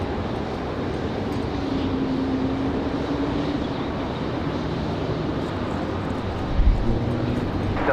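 A Frontier airliner takes off from runway 5 left at Raleigh-Durham International, a broad, steady jet roar carried at a distance and mixed with gusty wind noise buffeting the microphone.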